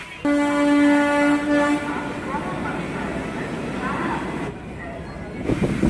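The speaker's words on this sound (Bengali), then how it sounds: "আমাদের ট্রেন এখন হাওড়া স্টেশন থেকে ছেড়ে দিল দীঘা যাওয়ার উদ্দেশ্যে।" A late-night local train pulls out of Howrah station bound for Digha, its horn sounding loud and long at the start before the rolling rumble of the carriages takes over and continues steadily.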